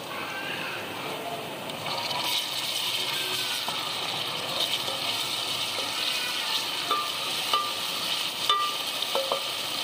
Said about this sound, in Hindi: लहसुन अदरक को हम हल्का सा भून लेंगे।